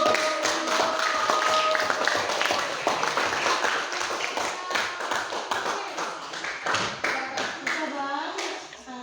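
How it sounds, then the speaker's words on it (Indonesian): A classroom of students claps for a class presentation, giving dense overlapping hand claps that start strong and thin toward the end. Chatter and a few voices run underneath. "Oke, kita beri aplaus untuk"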